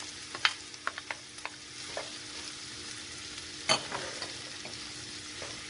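Onions and mushrooms frying in a pan, a constant close sizzle punctuated by clicks and scrapes from stirring, with one sharp utensil knock near the end.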